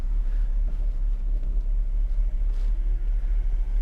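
A 1990 Mercedes 560SEC backs up slowly, its engine giving a low, steady rumble with a faint whine, close and continuous.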